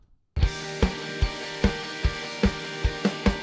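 Loud strummed guitar chords ring over a steady drum beat, with a punchy hit roughly every half second after a short silent start.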